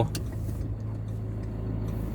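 A Ford Ranger pickup with a small engine cruises at 100 km/h, its motor giving a steady, even drone inside the cab with no sharp rises in pitch.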